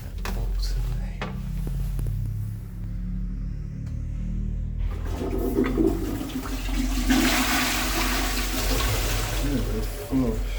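A Balterley toilet flushes, starting with clunks of the handle and a low hum, then a loud gushing rush of water that swells and holds for several seconds, heard up close indoors.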